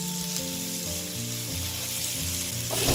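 Coriander root stir-frying in hot oil over medium-low heat, a steady close sizzle running throughout, with layered tonal music playing over it and the frying swelling louder near the end.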